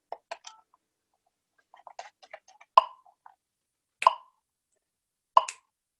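A metronome set to 46 beats per minute clicks slowly, sounding three crisp, evenly spaced ticks about 1.3 seconds apart, preceded by softer scattered taps and knocks in a quiet room.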